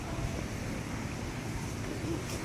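Floodwater flows steadily past a box culvert in Bangkal, Davao City, as a broad, continuous rushing wash mixed with wind noise on the microphone.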